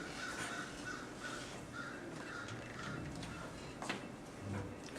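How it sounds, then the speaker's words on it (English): Crows caw repeatedly in a steady, rhythmic series from a moderate distance, set against a constant noisy outdoor background with no talking. "Crows are laughing at us."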